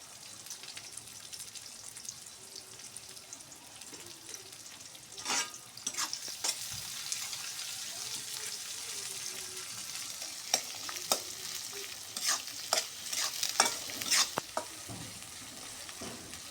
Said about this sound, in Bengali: সুন্দর করে লাল লাল করে বাদামি কালার করে ভাজে নিব